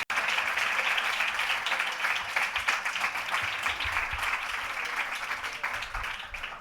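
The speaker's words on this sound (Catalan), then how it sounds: "així que un aplaudiment ben fort" Packed gala audience at a Valencian content-creation awards event breaking into loud, sustained applause after a brief silent start, dense clapping holding steady and close for several seconds before easing slightly at the end.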